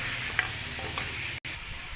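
Beef chunks fry in a pot for yakhni pulao under steady stirring, a close sizzling hiss broken by scraping strokes, with a brief dropout near the end.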